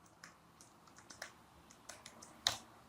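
A pip install command being typed on a computer keyboard: quiet, close key clicks in an irregular run of taps, ending with one sharper, louder keystroke.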